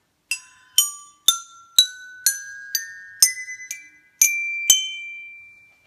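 Upgraded homemade pipe xylophone played as a rising run of about ten struck notes, each metallic, bell-like tone ringing clearly with a lingering sustain, close up with no talk.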